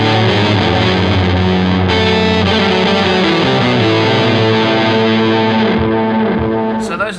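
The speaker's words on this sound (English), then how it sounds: "Utilizing the big muff again, delay, and the whammy set to an harmony octave down this time." Guitar solo through a Big Muff fuzz with delay and a whammy pedal set to an octave-down harmony, sustained distorted notes layered with a lower octave and echo trails, loud and continuous, ending in a swelling tail.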